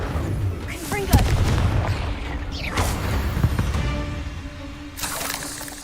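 A Confringo fire spell from Hogwarts Legacy bursts in a loud explosive blast, followed by crackling, rumbling impacts and further booming hits amid continuous game noise.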